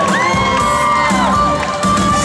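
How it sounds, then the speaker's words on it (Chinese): Concert crowd at an outdoor temple festival show cheering and screaming, high shrill whoops and shouts layered over steady applause, loud and close for a couple of seconds. "给我点掌声加尖叫声"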